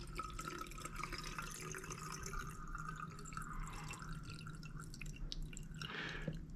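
Water is poured into the refill container of a handheld garment steamer, giving a quiet, steady trickle with soft drips throughout, close and faint.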